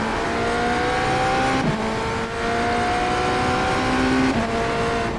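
GT3 race car engines in the iRacing sim racing game, a loud sustained engine drone with shifting tonal whine as cars accelerate and pass one after another, with no talking.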